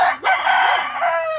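A rooster crows once in a backyard, a loud close cock-a-doodle-doo lasting just over a second.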